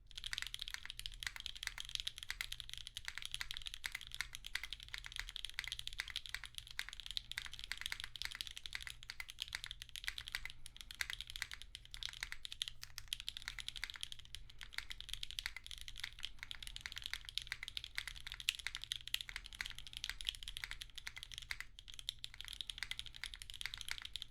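A mechanical keyboard built with an aluminum plate, Gateron Unknown switches and GMK Blot keycaps, typed on continuously with a dense, even clatter of keystrokes, quiet and close with no talking.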